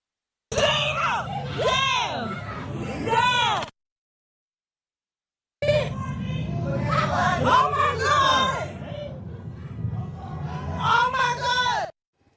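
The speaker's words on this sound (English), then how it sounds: "You can actually hear bystanders cheering that woman on to fire away" Bystanders shouting and cheering a woman on during a street confrontation, loud excited voices and yells in two bursts separated by a few seconds of silence, close and crowded.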